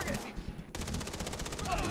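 Rapid automatic gunfire in the video game Far Cry 3 co-op, a dense burst of loud, evenly spaced shots after a brief gap, continuing to the end.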